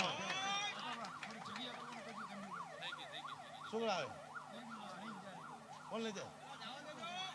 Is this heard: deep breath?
no